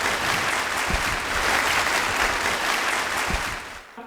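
Dense, steady applause from a large audience at a Thai stage event, sustained and loud for about four seconds before tapering off.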